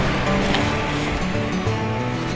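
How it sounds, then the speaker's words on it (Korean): A mountain stream rushes through a valley on the Jirisan Dulle-gil trail, where two streams meet. The water makes a steady, full, broadband hiss and gurgle, close and continuous, with no voices. "마치 빵빠레로 이어지는 것 같은 물소리입니다"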